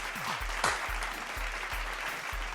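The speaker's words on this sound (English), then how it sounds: "Why are you clapping?" Steady clapping: a run of sharp, evenly spaced hand claps from a nearby person, with no talk over them.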